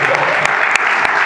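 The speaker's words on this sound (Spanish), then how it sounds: "No sé yo si Vargas Llosa va a tener un aplauso así." An audience claps steadily at a folklore gathering, a thick, even wash of applause with occasional louder individual claps close by.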